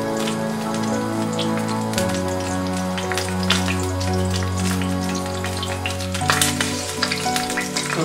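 Meat fillets and garlic cloves brown in a pan with a steady crackling sizzle and scattered spatters, set over a sustained low tonal hum, close and unbroken.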